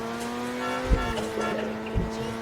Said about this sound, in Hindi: गाड़ी क्या भाग रही है भाई! अरे खंबे से टकरा गई भाई